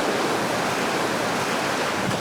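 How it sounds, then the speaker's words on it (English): Rough open-ocean waves churn under a strong, steady wind that buffets the microphone, a dense continuous roar with no pauses and no voices. "it's really rough. So there's a really strong breeze and the current is pushing this way"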